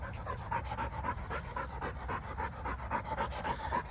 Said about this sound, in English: Look at this little puppy.